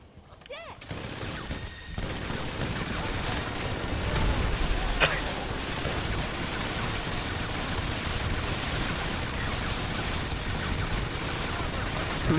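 Miniguns firing in a video game, several players focusing fire on one target, a dense continuous roar of rapid gunfire that stays loud and steady throughout, with no pauses.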